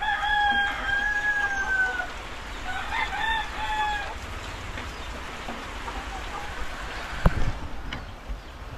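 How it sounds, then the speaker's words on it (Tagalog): A rooster crows twice close by, with brown hens clucking softly under a steady hiss of background noise. "Ayan, ang ating mga manok na decal brown."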